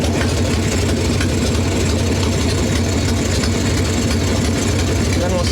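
Harley-Davidson Evo Softail engine idling low and steady, a loud, continuous rumbling beat close by, with someone speaking over it.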